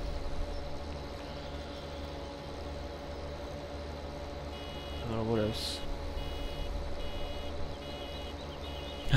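Full-barrel warning alarm from a farm machine in Farming Simulator 2017, a brief burst of repeated beeps rising over steady engine drone, with someone talking over the game.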